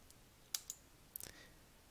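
Quiet, sharp computer mouse clicks, a single tap followed by a quick cluster of several clicks, crisp and close in an otherwise silent room.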